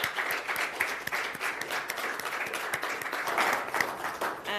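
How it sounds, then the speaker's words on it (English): An audience applauds speakers at the close of a Stephen Lawrence Day live stream: a steady patter of many hands clapping, moderately distant and sustained throughout. "Could we give them a round of applause,"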